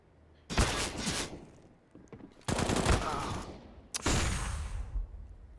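Bursts of automatic gunfire ring out in a Counter-Strike match on the Vertigo map at an ESL Challenger League game, three loud sustained volleys separated by brief quieter gaps, with a caster's commentary faintly underneath.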